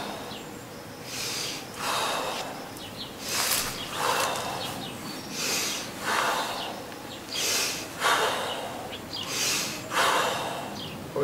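Heavy rhythmic breathing during a home workout, forceful snorting exhales repeating about every second and a half, close and loud with no talk.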